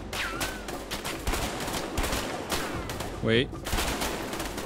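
Rapid gunfire rattles in A Way Out as players shoot at an explosive object, dense volleys of close shots with brief gaps, while a player speaks briefly over the shooting.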